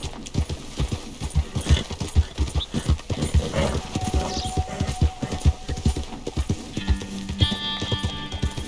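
Horse hooves clip-clop in a steady galloping rhythm in Red Dead Redemption 2, close and prominent throughout, with a brief whinny and faint tonal game sounds toward the end.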